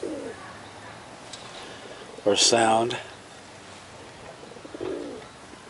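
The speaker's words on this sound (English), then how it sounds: "Then they make that pigeon noise" Hmong chickens at feeding time give a brief pigeon-like cooing call, heard among a person's speech and soft background noise.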